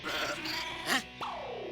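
A person imitates a goat bleating, giving a short nasal wavering bleat followed by a quick falling cry, close and fairly loud, in a Hindi comedy scene.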